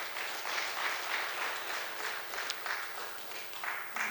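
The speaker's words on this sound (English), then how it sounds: "The entire team, they deserve for a very big applause." An audience at a guest lecture on India's startup ecosystem applauds the team, a dense, continuous wash of clapping that holds steady from start to finish without voices.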